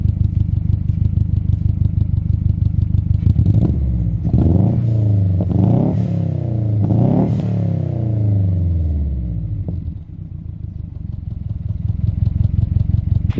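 A Subaru WRX Hawkeye turbo engine misfiring on cylinder one idles roughly with an uneven, stumbling pulse, rising into a few loud revs midway before settling back to a loping idle.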